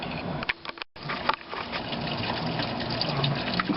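Motor oil drains from a 2007 BMW 328i onto a rag, a continuous splattering gush of liquid with a short break early on, close and moderately loud with no speech.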